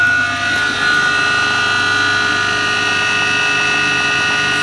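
Modified electric motor powered from an inverter, idling with no load: a loud, steady, close whine of sustained tones over a low buzzing hum that holds unchanged throughout.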